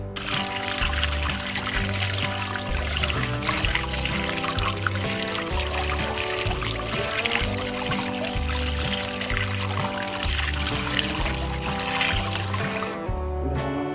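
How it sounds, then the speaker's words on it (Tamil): Running water pours steadily from a tap while an aloe vera leaf is washed under it, a continuous close splashing trickle lasting throughout with tonal music playing over it. "இப்போ இதை வந்து தண்ணியில நல்லா வாஷ் பண்ணிக்கலாம்."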